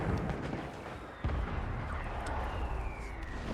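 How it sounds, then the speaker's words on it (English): Gunfire rages in the Warframe video game as a dense, continuous roar of rumbling blasts and booms, with a sharp heavier impact just past a second in. "The goddamn gunfire just raging endlessly."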